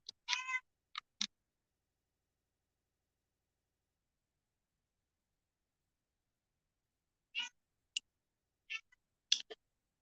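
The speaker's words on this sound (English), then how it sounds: "She's over here just meowing," A house cat gives a few short, quiet meows. Each is brief and followed by long stretches of silence, and there are a few small clicks.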